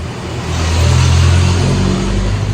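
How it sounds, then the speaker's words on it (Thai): A car passes close by outside, its engine noise swelling loudly to a peak and then easing off over a couple of seconds, with no voices. "อาจจะมีเสียงรถในเด้อ"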